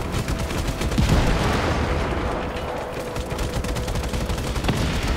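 Rapid cannon and gunfire from a tank in Just Cause 3, a steady stream of sharp repeated shots with a heavier boom near the start, loud and continuous throughout.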